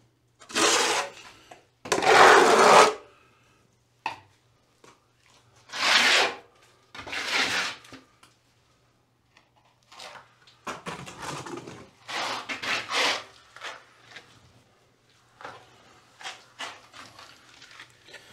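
Trowel spreading freshly mixed base-coat plaster across a wall, heard as repeated scraping, rasping strokes in bursts with short pauses between, fairly close and clear with no talk.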